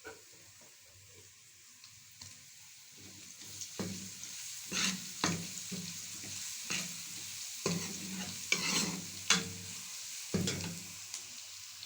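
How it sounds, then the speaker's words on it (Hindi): Garlic frying in ghee with browned onions for a potato and chicken bhujia, a continuous sizzle broken by repeated spoon-stirring scrapes and clinks in the pan, close and moderately loud. "लहसुन को मैं 2 मिनट तक भूनूंगी"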